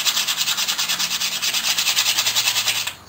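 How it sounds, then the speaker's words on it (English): Coarse sandpaper rubbed back and forth over rusty pliers, a close, loud rhythmic scratching of about a dozen quick strokes that stops abruptly at the end. "I'm going to take some coarse sandpaper, and there's some big rust on here."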